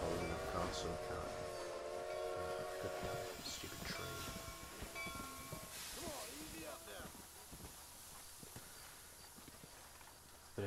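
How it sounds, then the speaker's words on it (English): A steam train pulls into Benedict Point station in Red Dead Redemption, with a sustained whistle-like harmonic tone over rumbling rail noise and clip-clopping hooves that fade as the train settles. "we've arrived at Benedict Point, just as the train pulled in"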